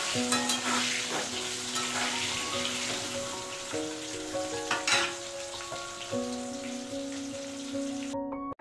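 Potatoes frying in a pan until reddened, with a steady continuous sizzle and occasional stirring scrapes, close and fairly loud throughout, no voices.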